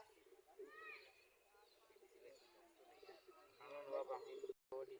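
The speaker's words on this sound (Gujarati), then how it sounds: "આપણા બધા કબૂતર જાય છે અંદર" Soft pigeon coos and flutters close by, with people talking over them.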